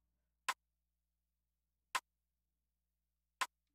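Three short, dry percussive clicks spaced evenly about a second and a half apart, isolated against silence with no added effects.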